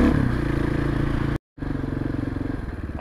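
Carburetted big-block motorcycle engine pulling hard while riding in cold weather, a loud steady throbbing drone with a brief dropout midway before resuming.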